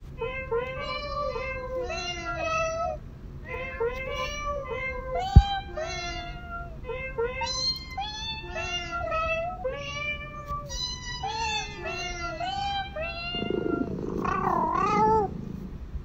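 Several cats meow in a long string of close, repeated calls over a soft, steady purr, with a louder, drawn-out yowl near the end; no one speaks.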